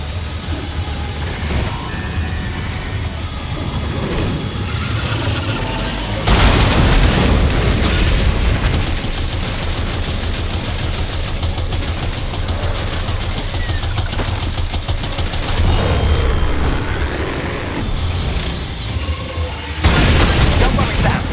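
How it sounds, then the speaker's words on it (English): Sustained rumbling booms and blasts from combat in the video game Death Stranding 2, a dense, loud wash with heavier surges midway and near the end, occasionally under speech. "Opening fire now."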